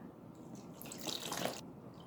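Water poured onto a styrofoam block standing in for a rock in a weathering demonstration, heard as a short splashing, rushing burst that swells and fades over about a second against quiet background hiss.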